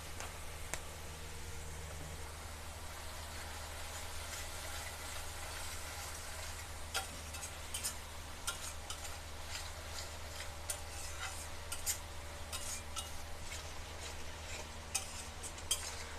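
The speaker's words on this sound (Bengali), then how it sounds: "মশলাটাকে আবার কষাতে হবে" Masala with cardamom powder and garam masala powder is sautéed in a pan, heard as faint, scattered scraping and clicking of a spoon stirring over a quiet background hum.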